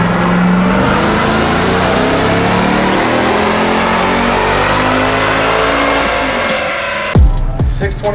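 Ram TRX engine revving hard on a dyno, a loud continuous roar climbing steadily through the pull before cutting off abruptly, followed by a brief clatter and lower rumble.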